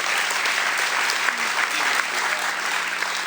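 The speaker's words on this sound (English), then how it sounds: "go ahead, clap." Audience applause at a spring high school student-athlete recognition event, a steady, dense wash of clapping from a crowd lasting the whole stretch with no talking over it.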